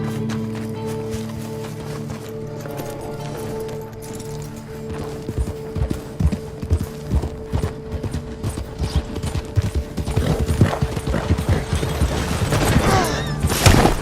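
Horse hooves clip-clop in the Red Dead Online video game, starting as sparse scattered thuds and building into a faster, louder run over steady background hum, with a few sharp cracks near the end.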